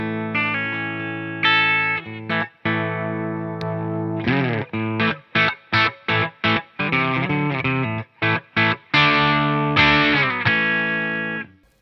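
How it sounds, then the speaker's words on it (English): A Les Paul style electric guitar played with a clean tone through a Fender Deluxe Reverb amp, sustained chords followed by a run of short choppy staccato strums, then ringing chords again, up close without any talking. "First off, clean tone, going through the Fender Deluxe Reverb."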